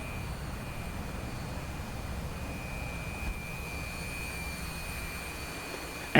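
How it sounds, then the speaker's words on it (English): A Su-27 jet in a video game sits on the runway, its engine holding a steady whining roar with a constant high tone, with no talk over it. "SU-27 safe and sound on the runway."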